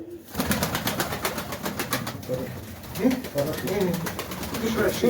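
Pigeons coo nearby in a bird fancier's loft, repeated soft throaty calls over a background of flapping and shuffling, while people talk at the same time.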